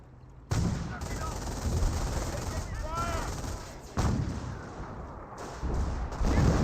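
Gunfire from a jeep in the real-time strategy game Company of Heroes, a steady battlefield clatter that runs under a faint voice, with a sudden louder surge near the start and several shifts in intensity.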